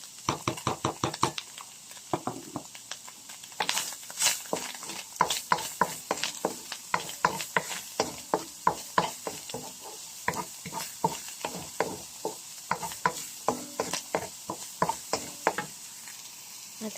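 Garlic and onion sautéing in a pan for Filipino lumpiang togue: a steady run of sharp spatula knocks and stirring scrapes over a soft, continuous sizzle, close up with no talking.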